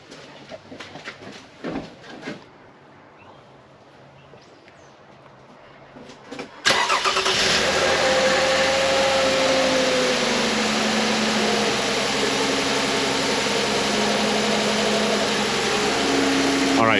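Toyota Camry V6 3.5L 2GR-FE engine cranks and fires about midway through, then settles into a loud steady idle heard up close under the hood, with quieter outdoor ambience and faint birds beforehand.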